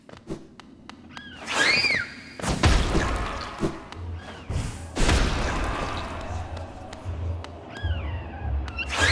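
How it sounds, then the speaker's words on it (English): Hollow Knight game explosions: two heavy, close booms with broad crashing tails, plus scattered thuds and brief whistling chirps in between. "I walked into the explosion after it had gone off."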